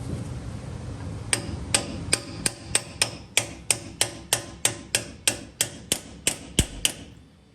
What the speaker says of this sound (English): So here's the seal driver, just a steel plate with aluminum shaft.